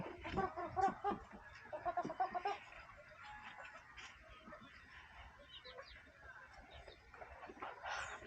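Chickens cluck in short rhythmic bursts at a moderate distance, with faint farmyard murmur continuing afterward.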